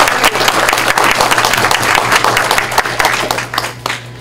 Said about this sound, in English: So if we can give all our makers a round of applause.